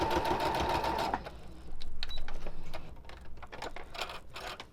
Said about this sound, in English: sew all the way to the end. Now back stitch.